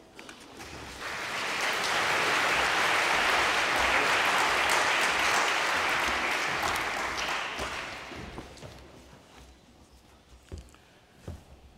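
An audience at a scientific conference applauds to welcome a keynote speaker, a dense steady clapping that swells, holds for several seconds, then thins out to a few scattered claps.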